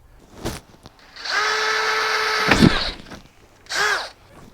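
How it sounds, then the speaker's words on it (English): A power drill whines in a short burst, then a longer steady run with a crunch as it drills out metal rivets on an Elddis CV 40 bed frame, followed by another brief spin. "I think we're going to have to drill these rivets out"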